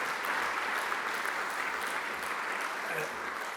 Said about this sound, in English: one final round of applause for all our Western Sydney Leadership Award winners